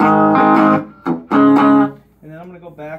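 Electric guitar, a Washburn or Fender played on the back pickup with a clean tone, rings out in a few sustained strummed chords and a short plucked phrase, close and loud with no talk.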